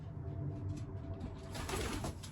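Racing pigeons in a loft coo softly in low repeated calls, with faint rustling around them in the quiet space.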